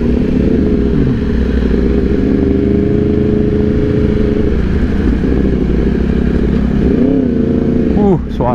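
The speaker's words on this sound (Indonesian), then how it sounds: "Suaranya benar-benar enak banget nih motor." A Yamaha R1 motorcycle engine runs loud and steady up close, holding a rough idle-like drone before a couple of quick rising revs near the end.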